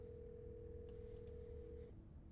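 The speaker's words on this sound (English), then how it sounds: "You once again hear something drop violently on the other end, and then a dial tone." Video game (Scarlet Hollow) faint steady telephone dial tone hums alone, joined by a few brief beeps, then cuts off near the end against a low background hiss.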